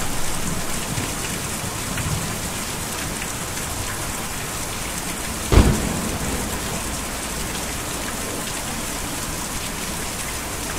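Rain and thunder in the video game Kentucky Route Zero: a dense, even hiss of rainfall throughout, broken midway by a single sharp thunderclap that quickly fades back into the downpour.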